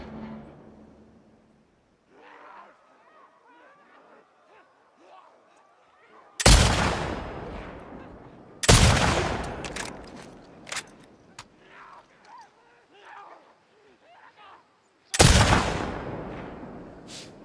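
Scoped rifle shots ring out in The Last of Us Part II, three loud, sharp cracks spaced a few seconds apart, each with a booming tail, separated by quieter rustling and movement.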